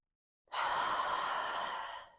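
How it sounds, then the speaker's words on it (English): One long, deep exhale during a yoga balance pose, close and clear, rising quickly and fading gently over about a second and a half in an otherwise quiet room. "2 more deep breaths."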